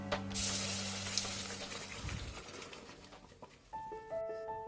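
Pav bhaji mixture stirred into fried masala in a pan gives a close, moderate sizzle with stirring scrapes that fades down toward the end.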